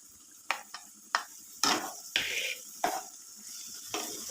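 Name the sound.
stir-frying cabbage and beans in a pan for vegetable samosa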